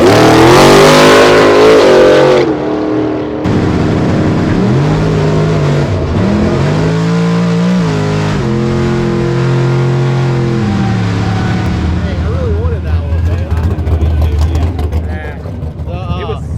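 The Charlie Brown drag race car at NPK Columbus revs loudly, cuts out, then roars back with rising and falling engine tones that fade into a steadier drone; people talk over it.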